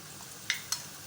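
Garlic, ginger and onion frying in a pan as raw turmeric is added, giving a soft steady sizzle broken by two brief scraping stirs.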